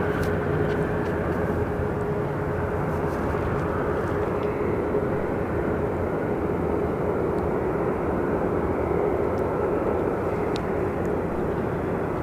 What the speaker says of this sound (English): over here, we do actually have a JSX Airlines Embraer coming in